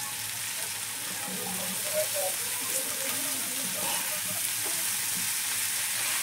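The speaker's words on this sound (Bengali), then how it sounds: "আপনারা তেলের কড়াইতে দিলে হচ্ছে কি আপনার এটা ভাজা ভাজা হবে" Taro stolons fry in oil in a wok, giving a steady, moderate sizzle with faint crackles and stirring noises throughout, with no talking over it.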